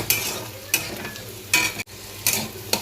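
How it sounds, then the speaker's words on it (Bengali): Chopped potatoes and onion fry in a pan with a continuous, close sizzle, punctuated by several sharp spatula scrapes and stirs at irregular intervals. "এবার এটাকে একটু লাল লাল করে ভাজবো আগে আলুটা।"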